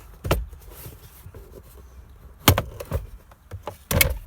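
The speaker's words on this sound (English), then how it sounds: "then you can pop your glove box back in" The glove box of a Toyota Hilux is refitted and shut, producing several sharp plastic clunks and knocks spaced out over a few seconds, close by and otherwise quiet.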